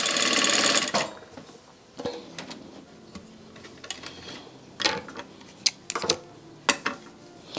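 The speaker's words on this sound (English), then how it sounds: "Stitch straight down. Back stitch just to do it." Industrial sewing machine, bought on a budget, stitching straight down and back-stitching: a loud whirring run at the start, then intermittent mechanical ticks and clunks, close and with no talk.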